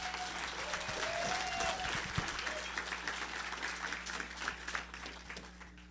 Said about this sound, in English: A round of applause for Susie,